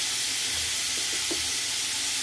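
Onion and tomato masala with salt frying in a pan for a Kumbakonam kadappa base, a steady close sizzle and hiss throughout with no voices.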